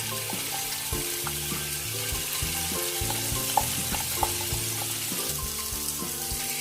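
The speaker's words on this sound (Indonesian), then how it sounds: "Selanjutnya bumbu halusnya tadi ditumis." Ground spice paste sautéing in a pan, a steady close sizzle with occasional light stirring clicks, with no one talking.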